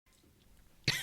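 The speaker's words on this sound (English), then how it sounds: "I'm going to cough." A single sharp cough bursts out at the very end, loud and close, after a near-silent stretch of faint room noise.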